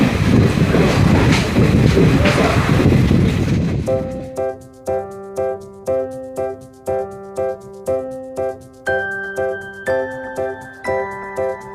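A DEMU passenger train, number 07526, rumbles loudly into Bagrakote station in North Bengal, the heavy roar easing after a few seconds into a regular sequence of clear, repeating tones.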